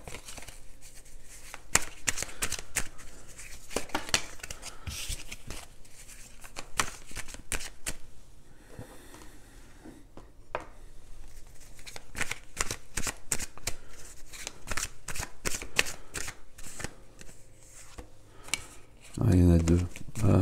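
Tarot cards riffle and slap as they are shuffled close up, with rapid repeated bursts across the whole stretch and a quiet voice speaking at moments between them.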